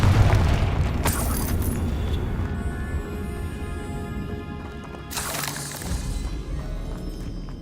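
A Confringo fire spell explodes in Hogwarts Legacy, a sharp burst near the start followed by a rumbling blast around five seconds, set against continuous low ambient game rumble.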